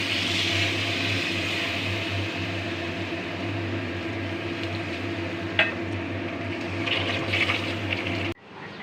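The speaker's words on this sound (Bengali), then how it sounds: "এবার দিয়ে দেবো পরিমাণ মতো জল।" Water pours into a pan of fish curry with vegetables as a steady, close rushing flow over a low hum, then cuts off abruptly near the end.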